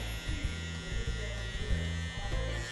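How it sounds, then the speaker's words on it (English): Electric hair clippers buzz close up while trimming around the neck on straight hair, a steady motor drone with small rhythmic wobbles as the blade moves over the skin. "Now I'm gonna turn my clipper the opposite way just to clean up around the neck"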